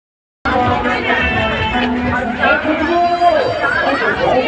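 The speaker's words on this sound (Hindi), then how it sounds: "पूरा भीड़ गया बाप रे बाप पूरा भीड़ गया" A dense crowd chatters loudly and continuously at the Godda fair in 2024, a thick babble of many voices with no single speaker standing out, starting abruptly after a brief silence.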